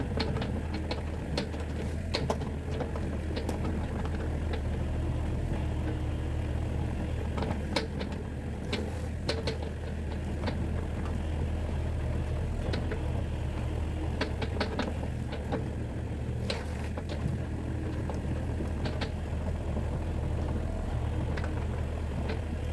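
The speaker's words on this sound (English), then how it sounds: "just tamping down the ground with the tractor of the digger" A Kubota digger tamping down ground for a patio, a steady low engine drone running throughout with scattered clanks and knocks from the machinery, close and continuous for over twenty seconds.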